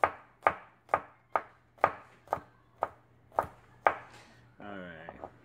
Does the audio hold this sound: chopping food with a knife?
yes